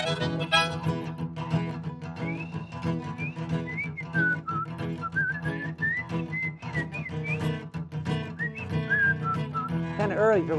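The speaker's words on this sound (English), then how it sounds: "Kind of early for whistling." A person whistles a lively, wavering melody over a busy musical backing, the tune rising and sliding in steady phrases and holding prominent and close throughout.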